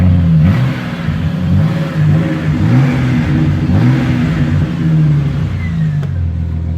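A straight-piped Jeep truck engine revs up and down near the microphone, a deep, loud, raspy exhaust note that swells and falls in several waves and runs steadily without talk.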